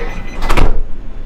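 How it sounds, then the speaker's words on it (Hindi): Sliding door of a Vande Bharat Express train carriage thudding shut, one brief loud whoosh and closing bump heard up close. "दरवाजा साथ में, दरवाजा बंद,"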